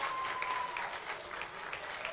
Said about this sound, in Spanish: ¡Y el aplauso para Yara!